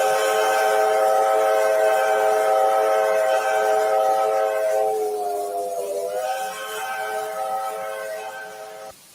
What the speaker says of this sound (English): Whistle number 5 sounds like this.